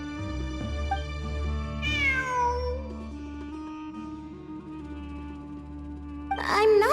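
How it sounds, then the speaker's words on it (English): A cat meows in the video game Genshin Impact, a couple of short rising-and-falling calls over sustained game music, with a brighter cry near the end. "It really is a cat"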